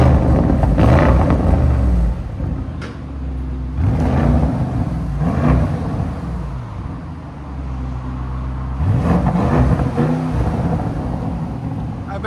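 Audi RSQ8 twin-turbo V8 with resonator delete revving in sport mode, deep repeated surges and rumbling swells close by, held back to around 3,000 RPM, with a voice briefly in the background.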